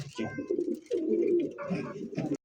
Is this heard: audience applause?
no